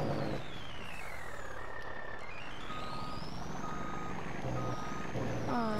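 A truck in Farming Simulator 19 backing out, its reversing alarm beeping in a steady repeated pattern over a constant engine drone and a rising, falling whine, with an air-brake hiss near the end.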